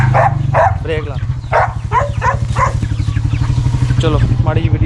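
Dogs of Bakharwal, Kohati Gultair pink-nose and Afghan Kuchi breeds give short, close barks over the low steady drone of an idling motorcycle, with people talking nearby.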